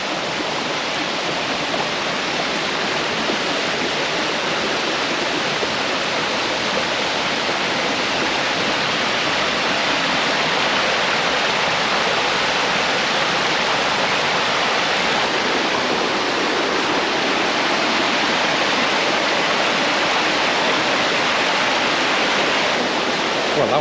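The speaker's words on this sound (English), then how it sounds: "just a few minutes away we've got the peace, tranquility of this babbling brook here" Wharnley Burn, a babbling brook tumbling over a waterfall in County Durham, roars as a loud, dense, unbroken rush of water that stays steady throughout.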